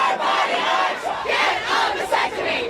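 Crowds of protesters for and against abortion rights gather outside the U.S. Supreme Court in Washington, D.C. at night, a loud chorus of shouting and chanting voices rising and falling in waves.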